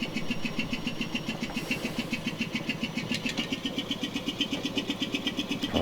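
A Deutz OMZ 117F locomotive diesel engine in Train Simulator Classic runs steadily, a smooth, even rhythmic chugging with a constant pulse, close and moderately loud with no speech.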